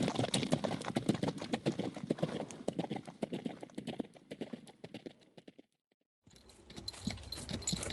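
Horse hooves clip-clop in a steady, close rhythm as a wagon rolls along in a western video game, briefly dropping to silence near the end before resuming.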